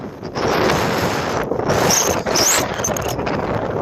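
Strong wind on the Appalachian Trail roars and buffets the microphone almost continuously, loud and close, with brief dips in the gusts and no voices.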